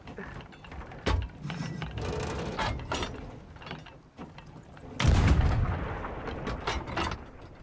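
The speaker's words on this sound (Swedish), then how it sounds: "nu kan vi använda de här kanonerna för fan!" Ship cannons fire in Sea of Thieves, two heavy booming shots roughly four seconds apart, each followed by rattling, clanking aftermath amid ongoing game sounds.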